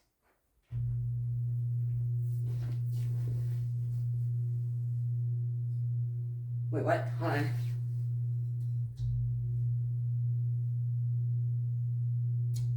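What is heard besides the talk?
ceiling fan motor running in reverse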